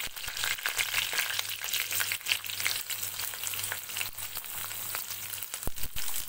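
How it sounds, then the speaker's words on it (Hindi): Mustard seeds, cumin, whole coriander, fennel and curry leaves crackle and sizzle in hot oil for a quick Indian breakfast dish, with busy popping and sharp spatters up close, plus a steady low hum beneath. "तेल गर्म हो गया है, अब मैं इसमें राई, जीरा, राई, खड़ा धनिया और सौंफ डाल देती हूँ। साथ ही करी पत्ते डाल देती हूँ।"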